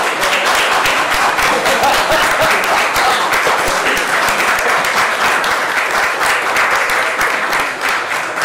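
Loud, dense audience applause fills the room at a summit closing as a best contribution award is announced, a continuous even roar of many hands that stays steady from start to finish.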